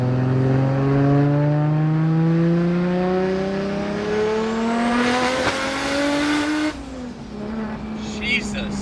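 A Nissan R33 GTR with about 800 hp and a large turbo accelerates hard, heard from inside the car. The engine note climbs loudly and steadily, then drops sharply at a gear change before it pulls again.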